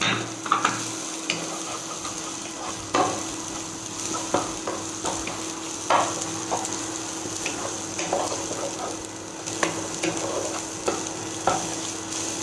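Twenty-five grams of finely shredded cabbage stir-fried in a hot pan, a continuous close sizzle broken by regular clicks and scrapes of a spatula moving the food, with no voices.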